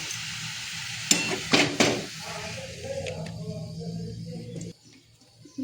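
Mushrooms frying in oil in a pan while being stirred, with a few sharp scrapes and knocks of the spoon against the pan over a soft sizzle, close, ending in near quiet.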